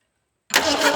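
A 1978 Ford Fairmont engine that sat for 35 years cranks and catches after a half-second of silence, a brief loud mid-pitched burst of engine noise close by.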